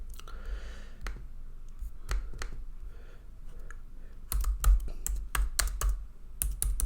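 Code is typed on a computer keyboard, with close, crisp key clicks arriving in irregular bursts and short pauses, growing denser and faster toward the end.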